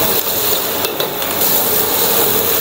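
Pineapple, onion and tomato sauté in a hot pan for a brief moment, with a soft sizzle broken by a few clanks of a utensil against the pan.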